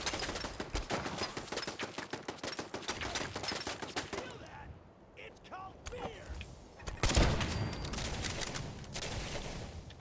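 Rapid bursts of automatic gunfire and single shots in Fallout 4, a dense rattling barrage that drops away briefly mid-clip before a loud blast and resumed firing, with game voices faintly underneath.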